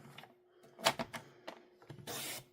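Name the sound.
paper trimmer cutting cardstock along the cutting track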